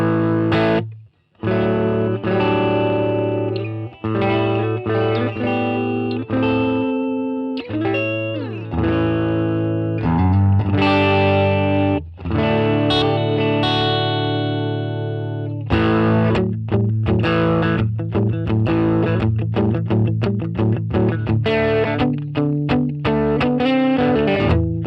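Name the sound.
Les Paul humbuckers through Marshall DSL1CR amp, breakup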